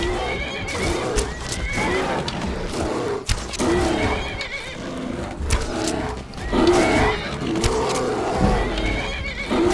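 Skyrim horse in modded Survival Mode, neighing and whinnying repeatedly amid combat noises, loud and near with several sharp calls spread across the passage.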